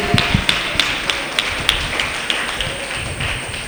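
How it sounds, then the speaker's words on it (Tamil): A church congregation at a prayer service claps hands in a steady, even rhythm, crisp repeated slaps spaced about a third of a second apart over a murmuring room background. "விசுவாசிக்கிறவர்கள் கரங்களை தட்டு."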